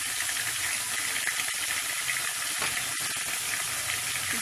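Turmeric and cumin stirred into hot oil in a frying pan for a pumpkin curry, with a steady, close, loud sizzle throughout and faint spoon movements beneath it.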